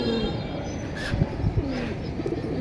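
Young pigeons give low, murmuring coos close by, a few soft throaty bursts scattered over a constant background noise.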